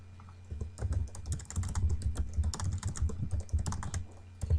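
Rapid keystrokes clatter steadily on a computer keyboard while a router command is entered, close and fairly loud with no voices.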